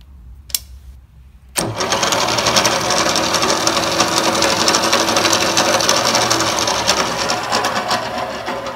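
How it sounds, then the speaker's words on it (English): Milling machine spindle running in low gear with a clackety mechanical clatter, starting abruptly after a quiet click and then running as a loud, steady rattling drone up close, no talking. "You hear that clackety clack up there? It's more pronounced in low gear."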